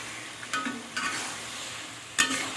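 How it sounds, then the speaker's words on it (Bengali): Fish curry base stirred in a frying pan, with soft sizzling under a few scraping strokes at a steady pace and one louder scrape near the end, heard close up. "এখন আমি এটাকে কিছুক্ষণ নাড়াবো"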